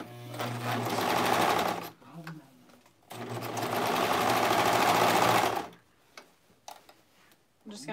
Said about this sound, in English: I'm just going to make sure I'm only sewing through those layers.